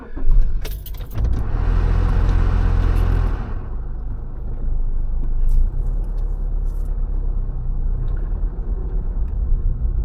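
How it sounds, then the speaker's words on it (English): A car setting off from Service NSW Port Macquarie: keys jangle at first, then a steady engine rumble builds and continues as the car pulls away, close and fairly loud with no talk. "So let's start driving now."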